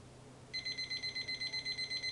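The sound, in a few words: cooking timer alarm going off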